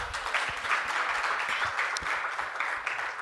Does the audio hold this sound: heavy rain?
no